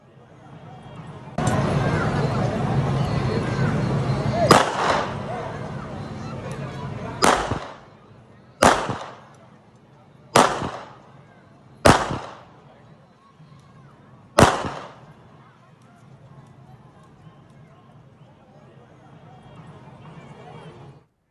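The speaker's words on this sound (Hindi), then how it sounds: "हर्ष फायरिंग करते हुए युवक का वीडियो भी सोशल मीडिया पर वायरल हो रहा है" Celebratory gunfire fired by a young man in a viral clip: a run of about six sharp, loud cracks spaced a second or two apart, each with a short echoing tail, over crowd noise and voices that later fade.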